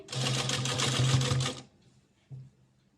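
A sewing machine runs a continuous stitching burst for about a second and a half, sewing a folded strip onto a round umbrella frock, then stops, followed by one short, quieter burst.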